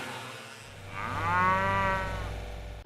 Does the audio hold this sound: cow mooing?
yes